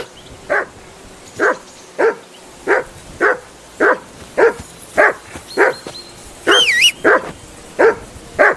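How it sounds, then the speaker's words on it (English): Henry's dog in Kingdom Come: Deliverance 2 barks loudly and close by, a run of about thirteen sharp barks in a steady, insistent rhythm, with a short whistling sound near the end and no talking. "that barking's driving me nuts! Can you get your dog to shut its beak?"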